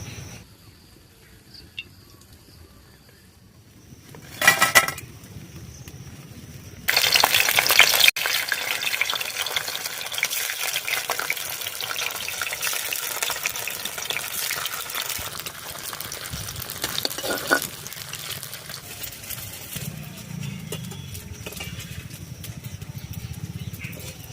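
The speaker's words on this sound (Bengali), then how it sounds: "ময়দার লেসি সবকটা ভেজে নিয়েছি" Flour dough balls deep-frying in hot oil, puffing up like fuchka, a steady loud sizzle running throughout after a brief stir and a sharp surge of bubbling a few seconds in.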